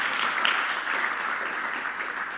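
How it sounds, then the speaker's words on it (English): A live audience gathered together in a hall applauds steadily, a sustained, moderately distant wash of many hands clapping with no speech over it. "I hope those of you that are watching could hear real applause from real people in a real space"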